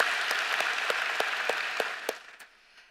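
An audience at a university commencement ceremony applauds the graduating class, a broad roomy wash of clapping with steady accented beats that fades out toward the end.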